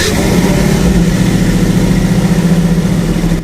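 Scout truck engine running at a steady loud idle with a low, even rumble and throb throughout, close by, cutting off at the end.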